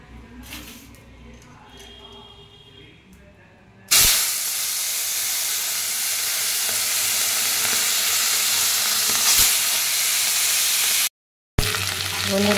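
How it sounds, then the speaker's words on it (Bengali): Fish frying in hot oil in a wok gives a loud, steady sizzle that starts abruptly after a quieter opening and continues close up, with a brief break near the end. "মাছ ভাজা আমার হয়ে গেছে"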